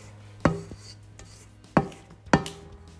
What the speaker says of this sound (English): Just scrape down those edges.